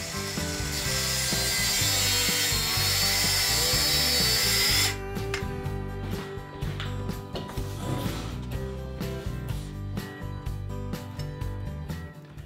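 Power saw cutting plywood guided by a clamped jig for a corner desk; a loud, steady broadband whine fills the first five seconds, then stops, leaving lighter mechanical clicking and rattling alone.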